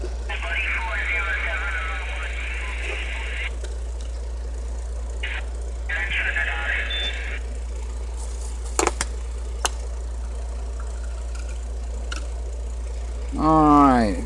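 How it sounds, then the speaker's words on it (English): A Singer 99 sewing machine winds a bobbin with a steady, low motor hum. A few brief clicks and rustles occur, and a person talks over the running machine. "that's how you wind a bobbin on a Singer 99"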